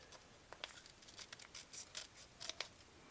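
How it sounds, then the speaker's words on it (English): Scissors snip through the sheet of a diamond painting kit in a quick series of close, crisp cuts, with no talking. "I need to cut this one apart here."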